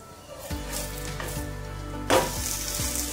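Cucumber thalipeeth, a flatbread, frying in ghee on a pan over a medium gas flame, giving a steady soft sizzle with a brief louder crackle partway through, close and continuous.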